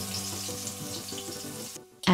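Crushed garlic frying in warm olive oil in a saucepan on a stove: a soft, steady sizzle with faint stirring, ending in a sudden loud clatter.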